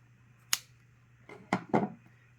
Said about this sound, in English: and then snip off my yarn